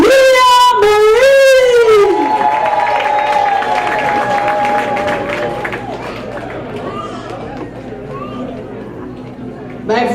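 Audience applause and cheering at a drag pageant swell after a singer's sustained note, a broad wash of clapping that continues steadily and slowly fades, with scattered voices.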